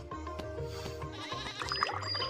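A goat bleats in short, wavering cries, fairly faint and repeated over a light background, in a video game.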